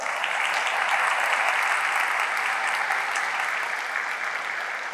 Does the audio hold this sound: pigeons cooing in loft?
no